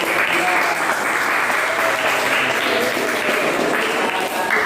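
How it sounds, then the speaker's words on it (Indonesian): Loud sustained applause from a classroom or lesson audience, dense clapping that carries evenly from start to finish without a break. "Luar biasa, tepuk tangan."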